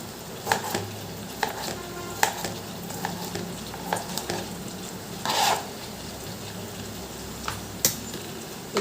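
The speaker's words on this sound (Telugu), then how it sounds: "ఫస్ట్ అయితే ఆయిల్ వేసుకుని ఒక ఉల్లిపాయ వేసాను." Onion fries in oil in a pan for brinjal curry, a soft continuous sizzle heard up close with repeated sharp clicks and scrapes of a spoon stirring, no speech.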